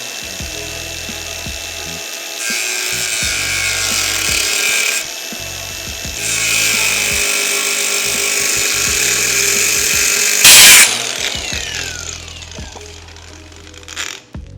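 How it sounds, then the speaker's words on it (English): A small reciprocating saw cuts into the frame metal of a 1946 Pontiac. It gives loud, harsh buzzing in several bursts with short pauses between them, and a brief sharp screech near the end. No one talks. "We got the little sawzall."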